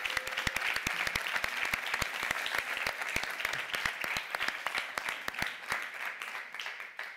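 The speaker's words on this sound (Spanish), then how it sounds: "un aplaudiment per elles. Un aplaudiment" Studio audience applause on a Catalan entertainment show, dense steady clapping with sharp individual claps cutting through, sustained for several seconds before thinning out at the end.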